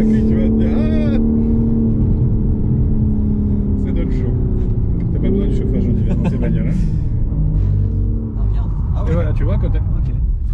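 Car engine droning from inside as it drives fast around a race circuit at about 140 km/h, a loud steady hum with shifting pitch, mostly under continuous talk from the people inside.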